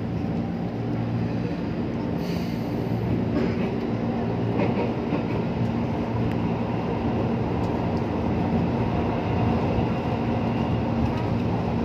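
A new INKA-built KRL electric commuter train, EA207, runs through the Lenteng Agung area, giving a loud, continuous rolling rumble with faint rail clatter, steady throughout and close by.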